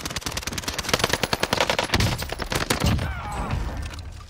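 Rapid bursts of H4 Blixen gunfire in Call of Duty Warzone on Rebirth Island, a loud fast stream of close shots tapering off near the end.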